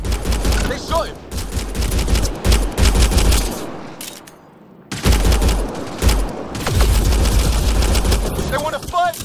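Rapid gunfire in the video game Mass Effect Andromeda, dense volleys of shots in quick succession with a short lull midway, mixed with game voices shouting over the combat.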